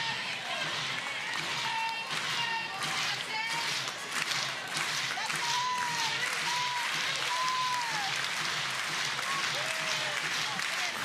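Crowd at a professional AUSL softball game between the Spark and the Cascade claps and cheers steadily to rally behind pitcher Kelly Maxwell, a continuous noisy wash of applause with distant whistles and calls throughout.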